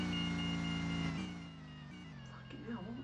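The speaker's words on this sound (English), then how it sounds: "New F1 cars sound good." A 2018 Williams F1 car engine in an F1 video game, a loud high-pitched whine holding steady then dropping and shifting as it revs, with someone talking over it.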